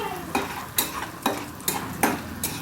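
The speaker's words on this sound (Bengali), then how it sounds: "ছোলার ডাল আর বিউলির ডালটা দিয়ে খুব ভালো করে ভেজে নেব।" Chana dal and urad dal frying in a pan for chutney, with five evenly spaced scraping stirs of a spoon cutting through a soft, close sizzle.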